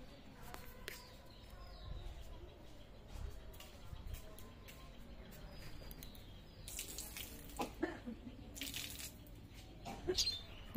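Water is poured to wash a doorstep at dawn. Quiet splashing and trickling continue under faint background noise, with a few louder sloshes and bursts near the end.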